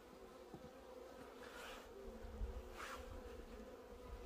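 Honeybees buzz around an open hive during a spring inspection, a steady low hum with a few nearer passes of individual bees, no voices.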